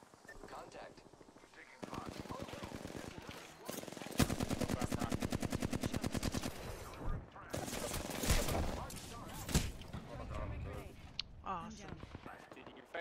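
Rapid automatic gunfire from the Apex Legends video game, long sustained bursts of tightly spaced shots with sharper single reports, loud and close, with players talking over the fighting.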